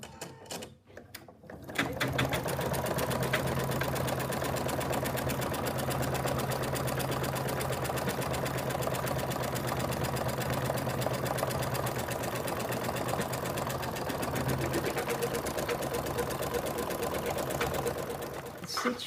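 An embroidery machine stitches fabric and wadding for an in-the-hoop phone case, a steady rapid mechanical needle rhythm running close and loud for most of the clip after a brief quieter start, with no talk.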